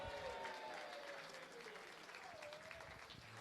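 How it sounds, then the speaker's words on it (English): Audience applause fills a darts championship hall at the WDF Lakeside World Championships, a steady wash of many hands clapping that holds at even loudness throughout, with faint voices and an announcer's tone briefly audible beneath. "a massive round of applause for Marko Kantele"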